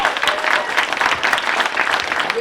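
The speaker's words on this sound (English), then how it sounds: "Let's give him a big round of applause." Audience applause at a 2009 Dallas fan convention Q&A with Jason Mewes, a steady, dense wash of many hands clapping close by, loud and sustained throughout with no talk over it.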